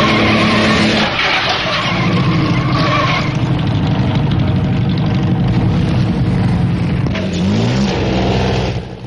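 Early racing cars from 1914 roar past on a twisting 23-mile road circuit: a loud, continuous engine drone with rising revs and tyre noise that fills the whole stretch.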